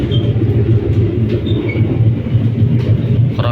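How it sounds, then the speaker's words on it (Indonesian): Interior of a Batavia economy passenger train slowing toward a stop, steady low rumble of wheels and carriage with faint squeals and clicks throughout, loud and continuous with no voices. "tapi ini kereta mau berhenti teman-teman"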